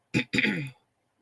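A short cough followed by a longer, rough throat clearing, close up, then silence.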